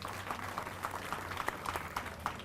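Audience applause at a celebration honouring a professor, a continuous moderate clapping from a room of people with a faint low hum beneath, no voices.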